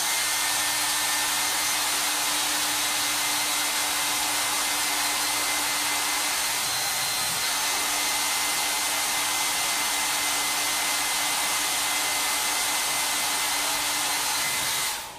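A hair dryer or heat tool runs steadily and loudly for the whole stretch, drying a chalk paint transfer on a Halloween sign with a zombie hand design, then cuts off right at the end.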